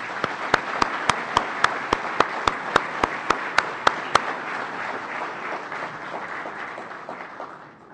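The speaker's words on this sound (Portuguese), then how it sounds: "E para o Valdô, da mesma forma, uma salva de palmas." Audience applause at the official opening of the FISL17 free software forum, a steady crowd clapping with a few sharp, regular louder claps on top for about four seconds, then the ovation thins and fades out.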